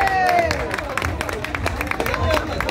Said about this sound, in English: Can you clap your hand for her,